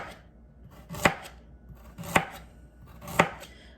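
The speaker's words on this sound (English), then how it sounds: "you're slicing your carrots into these little medallions" A knife chops through carrots into round medallions on a cutting board, three sharp, evenly spaced cuts about a second apart, close and clear against a quiet kitchen background.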